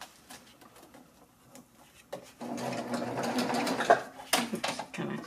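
A sewing machine runs over a fabric tail while making a handy bag: soft taps and handling come first, then a close, steady whirring stitch starts and continues with brief stutters.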